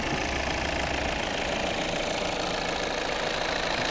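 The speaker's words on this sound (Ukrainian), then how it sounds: "Євро 6 двигун, 4-циліндровий." A 2014 Volvo V60 2.0 D4 four-cylinder diesel engine idles steadily at close range, a constant rumbling hum with a faint mechanical knock and no voices.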